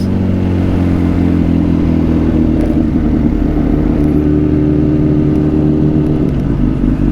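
A loud motorcycle engine idles and rumbles steadily nearby on a Los Angeles street, with a constant low throb and no voices.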